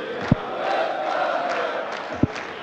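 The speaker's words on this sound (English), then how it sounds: "in front of a pretty passionate and sizable crowd here at the Multiversa" A passionate, sizable darts crowd at the Austrian Darts Open hums and chants in an arena, a steady murmur broken by two short sharp thuds.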